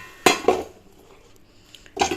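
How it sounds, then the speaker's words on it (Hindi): Dishes and cups clink and clatter as they are put away in a home kitchen: a couple of sharp knocks, a quiet pause, then another burst of clattering. "ये बर्तन वगैरह हैं सब लगाती हूँ, ये कप वगैरह"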